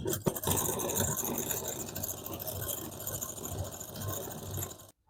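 A sewing machine runs a steady, close mechanical whir while stitching the edging on a double katori blouse, continuing without pause before cutting off abruptly at the end.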